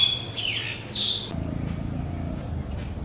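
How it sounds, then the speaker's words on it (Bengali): Small birds at a weed-covered pond in a jungle give a few brief high chirps early on, followed by softer rustling and low ambient noise. "হালকা ওজনের এই পাখিগুলো অনায়াসে চলাচল করছে"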